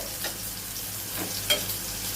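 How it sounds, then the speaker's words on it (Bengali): Spices sizzle and crackle in hot oil while tempering for a spicy fish curry, a steady frying hiss with a few brief stirring scrapes, close by and with no talking. "ফোড়নটা একটু ভেজে নিচ্ছি"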